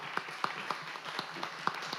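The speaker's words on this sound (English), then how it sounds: "I ask that this audience please give a round of applause for the volunteers that have vaccinated our citizens at these clinics." Sparse applause from an audience at a county board meeting, honoring vaccination clinic volunteers; scattered individual claps ring out fairly faintly over a steady room hum, with no voices.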